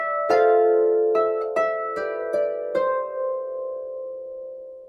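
An acoustic guitar plays a single bar of a song, six plucked notes in a slow, even rhythm ringing out and sustaining into a fading final chord, close and clear with no talking.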